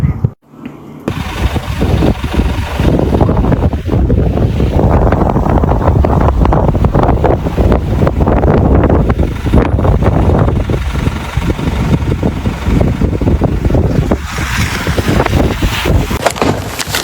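Blizzard wind roars without a break through an extreme snowstorm on a snowbound road in New York and New Jersey, a loud, steady gusty rush buffeting the microphone for the whole stretch with no voices.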